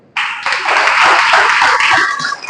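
An audience at a health education talk about Amalapuram breaks into sustained clapping, starting abruptly and holding steady and loud without pause.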